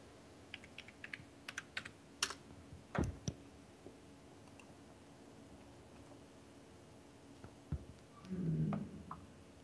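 Someone types a username and password on a computer keyboard, producing scattered soft clicks and taps in short clusters, quiet and close, with a few pauses.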